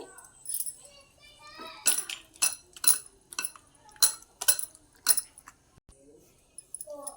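Wheat flour bonda batter with salt being mixed in a bowl, giving a string of sharp spoon-on-bowl clinks and scrapes in irregular bursts, fairly close with quiet gaps between.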